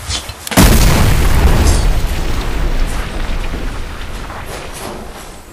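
A grenade explosion with a sudden loud boom that follows a brief quiet moment, then a long rumbling decay with debris-like crackle fading over several seconds.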